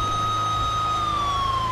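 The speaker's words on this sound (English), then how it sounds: "My gosh, there's an ambulance." An ambulance siren in GTA 5 wails in a steady, loud tone that bends slowly downward in pitch as the vehicle passes, over low engine rumble and with no talk.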